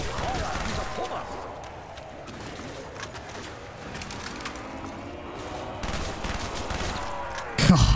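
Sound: automatic gunfire in Black Ops 1 Zombies video game

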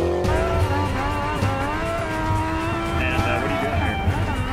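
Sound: Mustang drifting with tire squeal

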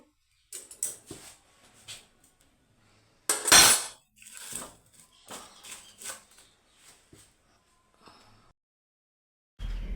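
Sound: moving sweet potatoes around in a pressure cooker

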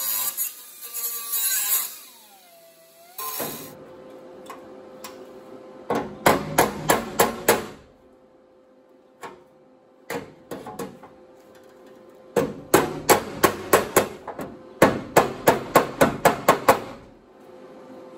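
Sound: hammer and dolly straightening car body panel

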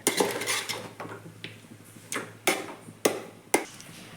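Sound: rice being mixed in a vessel

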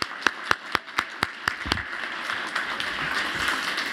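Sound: audience applause at a HUD Veterans Day ceremony

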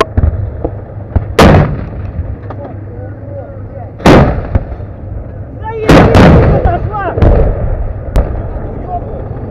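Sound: gunfire in battle

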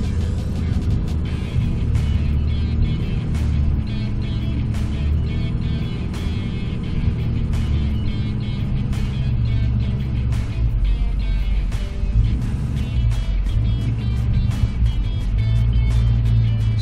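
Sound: vehicle engine while backing up a trailer toward garage

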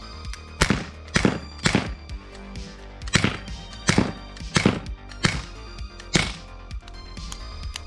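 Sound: SIG Sauer P226 CO2 air pistol firing shots into a cushion

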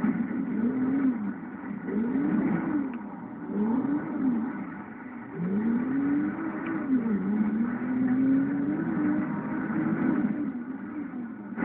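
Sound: race car engine revving in GTA 5 video game

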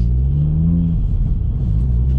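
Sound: Audi S1 engine revving

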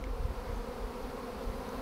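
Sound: honey bee swarm buzzing

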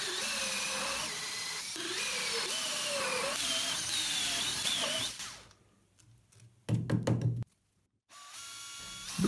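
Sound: drilling holes in plastic

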